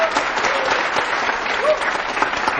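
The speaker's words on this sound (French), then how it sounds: "On va applaudir pour ce grand succès." An audience at a French-language TV show applauds a singer's big success with steady, loud, dense clapping that lasts the whole time, with faint voices underneath.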